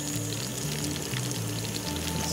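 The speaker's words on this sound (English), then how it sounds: "Frying up some freshly caught lake trout" Freshly caught brook trout fry in a pan at a campsite, a close, continuous crackling sizzle with bright spitting and popping over a steady hiss.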